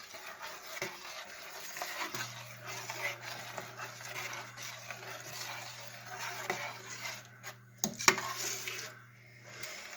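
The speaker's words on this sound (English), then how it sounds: "Nice thick ketchup. Stir it up." A spoon stirs thick hot dog chili sauce with ketchup in a pot, making a continuous close, soft wet scraping and bubbling, with a low steady hum underneath and a sharper clink near the end.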